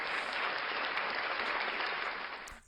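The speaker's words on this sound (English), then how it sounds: "A round of applause. A round of applause." Applause at a gathering, a steady dense wash of clapping that holds loud for over two seconds, then fades out abruptly at the end.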